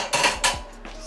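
Collard greens stirred in a pressure cooker pot, a few close clanks and scrapes of a utensil against the metal in quick bursts, with no voices.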